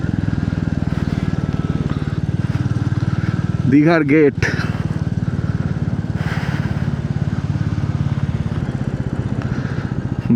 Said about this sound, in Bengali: এখন যখন রাইড করছি মানে বাইক চালাচ্ছি